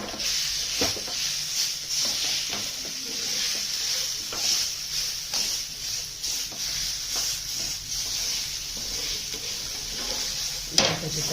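Ridge gourd peel chutney roasts in a little oil in a pan, giving a continuous bright sizzle broken by soft stirring scrapes and a sharper clink near the end.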